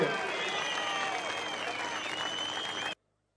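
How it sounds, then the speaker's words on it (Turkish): Applause from a crowd at an outdoor political rally in Kilis, Turkey, as the audience claps for retirees, a dense steady roar of clapping with voices and whistles mixed in before an abrupt cut to silence. "Yürekten alkışlayalım bütün emeklilerimizi."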